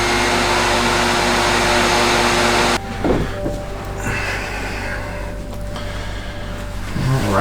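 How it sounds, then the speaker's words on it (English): A household vacuum cleaner runs with a loud, steady roar close by, then cuts off abruptly about a third of the way through, leaving quieter room noise and faint clatter. "I'm just gonna vacuum first."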